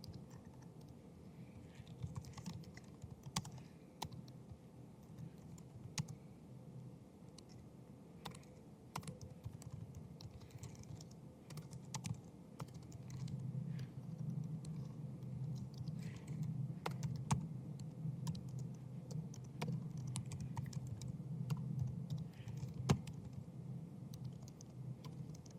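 Java code is typed on a computer keyboard in a steady patter of soft key clicks. The typing is faint and sits over a low background hum.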